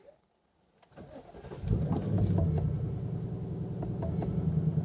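A 2024 Ford Mustang GT engine cranks over after a moment of near silence, catches with a loud low rumble and then settles into a steady, throaty idle close by, with no talking.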